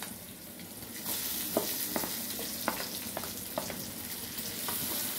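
Tomato pieces drop into a curry pan and fry, the sizzle swelling after a second and continuing with sharp clicks and taps of a spoon stirring, close and moderately quiet.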